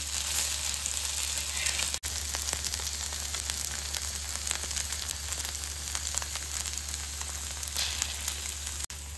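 Okra frying on an iron tawa until crisp, a dense continuous sizzle and crackle close up with a low steady hum beneath and two brief dropouts.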